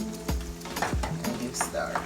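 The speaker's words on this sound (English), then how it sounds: "you just give it a little chop like this with your spoon" A spoon chopping sweet plantain filling in a pot, a few dull knocks and scrapes spaced irregularly, with a faint sizzle in the background.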